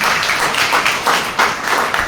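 A church congregation claps together during a sermon in a steady, dense patter of applause that fills the room for a couple of seconds.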